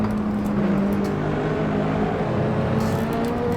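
A race car engine in the Assetto Corsa racing game, a steady loud drone at near-constant pitch with no shifts or revving, heard alone throughout.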